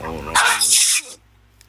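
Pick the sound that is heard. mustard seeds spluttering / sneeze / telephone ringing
sneeze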